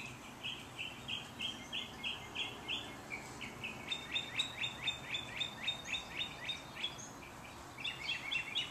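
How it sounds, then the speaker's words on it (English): Backyard birds waiting to be fed chirp in quick repeated bursts, a steady run of bright, near tweets over soft outdoor ambience. "Can you hear the birds?"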